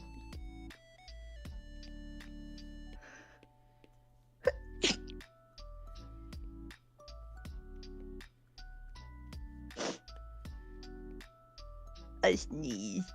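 Someone lets out a sudden, sharp sneeze over soft, looping background music with chiming tones, and talk comes in around it.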